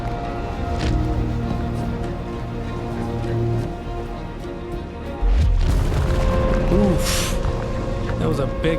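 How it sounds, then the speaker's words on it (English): A big explosion in the video game Aloft, a sudden deep booming burst midway that stays loud and rumbling, with speech heard around it. "Big explosion."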